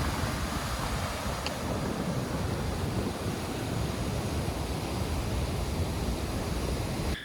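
Upper Martin Creek waterfall in Banff National Park roars as a steady, dense wash of falling water, loud and unbroken throughout with no voices.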